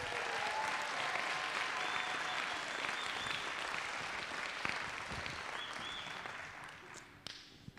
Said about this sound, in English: we'd like to give an applause to Dan and Kim for being here and doing a wonderful job.